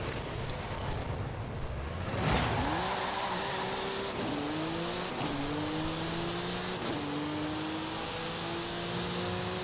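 A 1998 Porsche 911 GT1 Strassenversion in Forza Horizon 5 accelerates hard. Its engine note climbs repeatedly through several quick gear changes after a short burst of tire squeal, loud and close with no talking.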